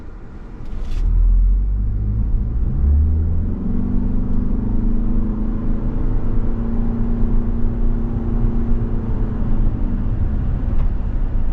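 A 2024 Toyota RAV4 XSE Prime plug-in hybrid SUV pulls away from a stop and accelerates, a steady low engine and road rumble that rises early and then holds at a loud, even drone.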